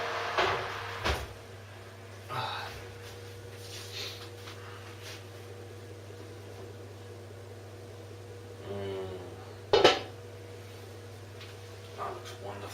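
A stew pot is lifted out of a home oven, with a cupboard-like clunk of the oven door near the start, a loud knock around the middle, and a steady appliance hum throughout; no talking.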